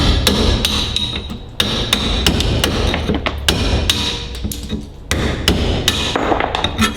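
Old brake linings being hammered off Ferguson TEA20 tractor brake shoes: close, loud metallic blows struck in quick irregular bursts, with brief pauses between runs and no talking.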